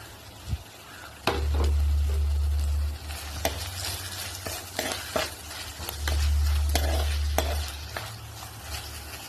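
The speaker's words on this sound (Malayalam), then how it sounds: "നമുക്കിതൊന്ന് ഇളക്കി കൊടുക്കാം. അത് ഒരുവിധം മൂത്തിട്ടുണ്ട്." Onions and green chillies sizzle in a pan while a spoon stirs them, a steady frying hiss broken by scraping and tapping strokes, close and fairly loud, with a low rumble swelling twice.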